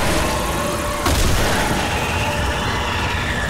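Gunfire in the video game Resident Evil 6 sounds over a dense, loud game soundscape: a sharp blast near the start of the second second, then a continuous roar of shooting and effects with no talk.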